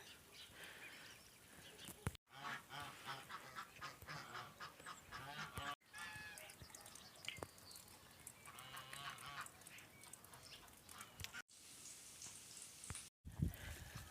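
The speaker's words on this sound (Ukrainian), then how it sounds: "І оце поснідали вони і собі починають квакати, кричати" Farmyard ducks swimming after breakfast in the morning, quacking and calling repeatedly in busy overlapping bursts, fairly close, with brief pauses between stretches.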